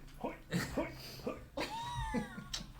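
A person imitates a cat about to vomit, producing repeated retching, gagging meows and a rising wail in rhythmic bursts, close and fairly quiet.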